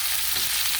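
Vegetables and tomatoes frying in a pan give off a dense, continuous sizzle while being stirred, loud and close throughout with no voices.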